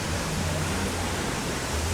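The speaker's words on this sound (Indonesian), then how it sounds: "Air terjun dari Coban Talun teman-teman." Coban Talun waterfall pouring steadily, a broad, even rush of falling water heard up close with no talking over it.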